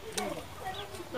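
Chickens clucking outdoors near a forest, a few soft short clucks and calls at moderate distance over a faint background hum.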